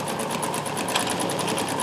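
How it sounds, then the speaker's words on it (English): A Singer Dressmaker 2402 sewing machine with cams runs at steady speed, its cam follower ticking in a fast, even rhythm of light clicks over a constant motor hum. "you can hear the cam follower working perfectly, so that's that click sound"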